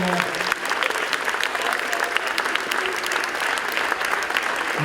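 Steady, dense applause from an audience for a project team at a show, continuous and fairly loud throughout with faint voices mixed in.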